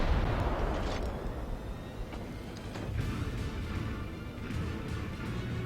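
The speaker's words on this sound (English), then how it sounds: "Okay, it's kind of just out of range, but I'll take a shot. Fire broadside." An Atlanta premium cruiser fires its broadside in World of Warships, heard as a dense, rumbling roar of naval gunfire with muffled booms, steady and loud throughout.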